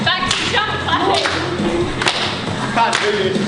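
Rhythmic group jumping and clapping during a youth exercise session, with a few sharp claps roughly once a second over a steady room noise.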